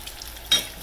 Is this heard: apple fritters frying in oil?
yes